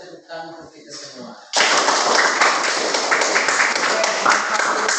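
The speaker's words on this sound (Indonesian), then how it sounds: "Mari kita tepuk tangan untuk kita semua." A group bursts into sustained, dense applause after a short stretch of spoken words, the clapping loud and steady until the end.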